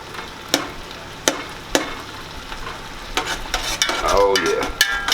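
Garlic sizzles steadily in a hot pan while a utensil stirs it, with sharp scraping clicks at intervals and the frying hiss growing louder and busier toward the end, no talking.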